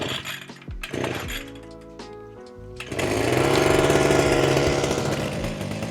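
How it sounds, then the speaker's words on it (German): A powered earth auger boring fence post holes in the ground outdoors, irregular bursts at first, then a loud, sustained mechanical drone that runs through the last half, with no voices. "der wird jetzt schon mal die ersten Löcher bohren"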